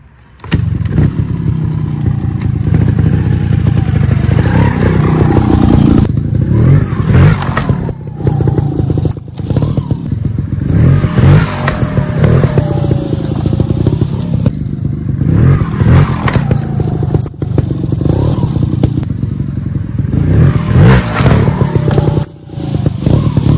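A trials motorcycle engine roars continuously with repeated sharp revs and blips as the bike rolls up and double blips, loud and close throughout with some mechanical clatter.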